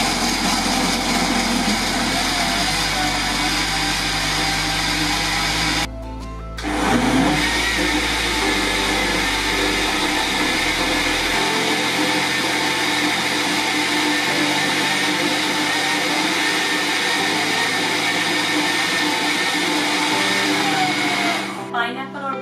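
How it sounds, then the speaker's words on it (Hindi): Blender running steadily for a long stretch while blending a pineapple and banana smoothie, a loud continuous motor whine with a brief dip midway and a speed change near the end, no talking. "Now we gonna blend it for maybe 8"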